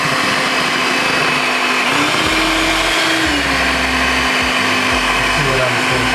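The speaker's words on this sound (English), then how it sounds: "Let me whisk one last time" An electric mixer whirs loudly and steadily through cake batter, its motor pitch dipping and rising as the load shifts, with low thumps as the beaters knock the bowl.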